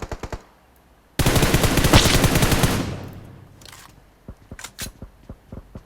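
Gunfire in a battle royale game: scattered single shots, then a dense loud burst of automatic fire lasting about two seconds that fades, followed by more sporadic shots.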